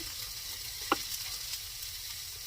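Ghee being mixed into cooked pulao rice, heard as quiet scraping and stirring with one brief clink near the start, over a low steady background hiss.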